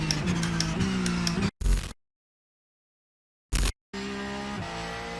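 Race car engine revs and shifts in a racing simulator game, with tire squeal, loud and close, broken by a sudden cut to silence and short bursts before the engine noise returns.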